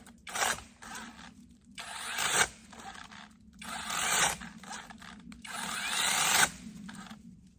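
Seesii pole saw cutting a tree branch outdoors, three loud bursts of buzzing chain cutting separated by short pauses, the motor bogging slightly under load.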